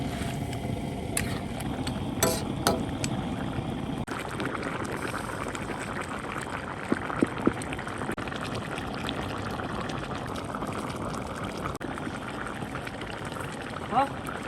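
Pot of pork trotter stew simmering after chili peppers, bird's eye chilies and garlic go in, a steady bubbling wash close by, with a few clinks and a voice talking over it.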